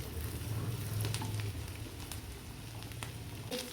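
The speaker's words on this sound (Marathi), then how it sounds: "कट करून घेतलेला कांदा मोकळा करून घेतला तो टाकून घेणार आहोत त्याच्यामध्ये थोडासा फ्राय करायचा जास्त नाही" Chopped onion sizzles and fries steadily in a hot pan for restaurant-style Schezwan fried rice, a continuous close crackle with occasional sharper pops and stirring scrapes, no talking.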